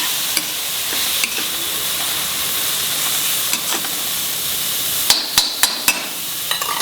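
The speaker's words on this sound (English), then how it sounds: "Lower the flame and fry it nicely." Dry shrimp curry fries in a pan over a low flame with a soft, steady sizzle, punctuated by several sharp clicks and taps of a spoon against the pan, with no voices.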